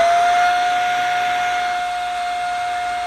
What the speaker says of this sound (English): Makes that high-pitched noise. You likely have a clog.